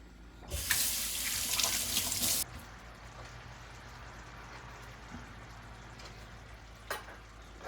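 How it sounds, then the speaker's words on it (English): Tap water gushes loudly into a sink while rice is washed for a Jamaican seafood curry meal, running for about two seconds before cutting off and leaving a quiet kitchen hum with a stray clink. "I'm going to wash my rice and put it on."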